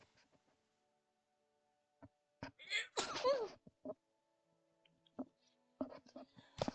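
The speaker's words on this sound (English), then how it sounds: "Hold on, I'm gonna sneeze." A single sharp sneeze bursts out close to the microphone in an otherwise quiet room, surrounded by a few faint clicks and soft rustles.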